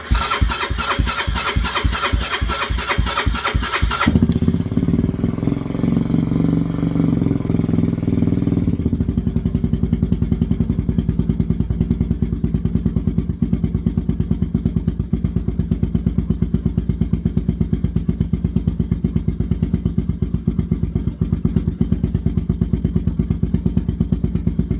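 A Honda 350D motorcycle engine with a fuel pump issue cranks with rapid starter pulses, catches, and settles into a steady, loud, close idle that runs evenly for the rest of the time.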